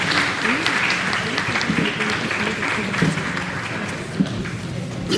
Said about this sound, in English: Round of applause for them, please.